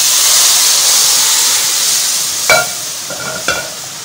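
Steady hiss of gram flour halwa roasting in ghee, with a few sharp splashes and sizzling bursts as dissolved sugar syrup is poured into the hot pan.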